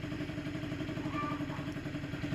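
An MBK Stunt moped sits idling as its engine warms up, giving a steady, close, burbling two-stroke putter with a light mechanical clatter and no voices.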